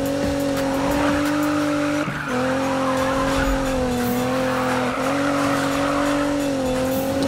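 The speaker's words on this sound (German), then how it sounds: "Ah, der Drift ging. Das war nicht der schönste Drift, aber es hat funktioniert." A car in Need for Speed drifts with a loud, sustained tire squeal and a roaring engine whose pitch shifts between slides, heard close and with no talking.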